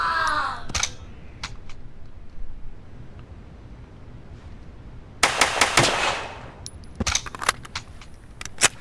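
Large-caliber gunfire in the video game Black Bag, a sharp shot near the start, then a sparse run of loud single shots and short bursts spaced out over a low background hum.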